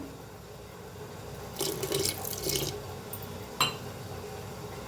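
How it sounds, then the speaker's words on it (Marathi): Water splashes into a bowl of thick dosa batter in two short pours, a roughly one-second stream followed by a brief splash, against a quiet kitchen background. "तर थोडंसं पाणी ओतूया"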